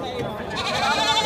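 A large goat at a goat and sheep livestock fair in Pernambuco, Brazil, gives a single drawn-out bleat, close and loud, with fair crowd noise and voices around it.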